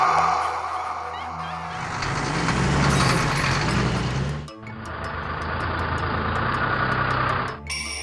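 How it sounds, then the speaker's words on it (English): School bus on the road, a continuous engine drone with possible honks, loud and near, with two short breaks in the sound. "school bus."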